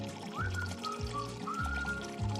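Water streams from a Zip HydroTap All-In-One mixer tap, a steady close pour and trickle at low level, with faint tonal sounds in the background and no talk.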